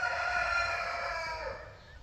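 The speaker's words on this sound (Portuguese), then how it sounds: "Canta galo no nosso interior." Rooster crowing in the Brazilian countryside, one long sustained cock-a-doodle-doo at moderate distance, fairly faint and alone with no talk.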